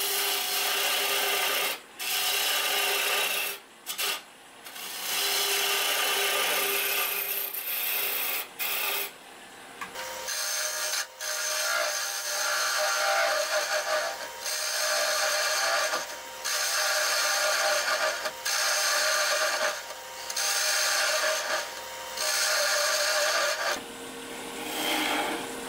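A woodturning blank for a snowman body is trimmed down, giving loud, close rasping and grinding cutting bursts broken by short pauses, with a steadier machine hum joining partway through.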